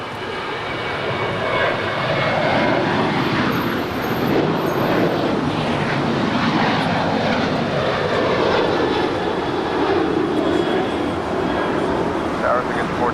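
A United airliner takes off from runway 25 right at Los Angeles International Airport, its engines building into a broad, steady roar that holds for several seconds while radio voices talk over it.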